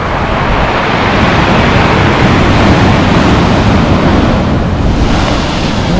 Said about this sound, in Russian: Ну, волны сегодня слабенькие.